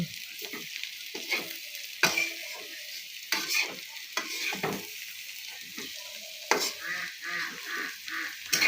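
Bitter gourd (karela) frying in a pan and being stirred, a continuous crackling sizzle punctuated by repeated spatula scrapes and clatters, close and fairly steady.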